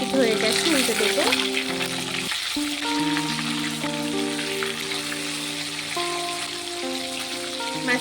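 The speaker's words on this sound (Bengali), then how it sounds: "মাছটিকে ভালো করে ভেজে নেব" Katla fish frying in hot oil in a pan gives a steady, dense sizzle throughout, with sustained tonal sounds running over the crackle.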